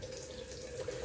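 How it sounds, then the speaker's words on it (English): A water tap runs steadily into a sink to rinse a shaving razor, a brief, close, even gush of flowing water. "Just gonna rinse a bit."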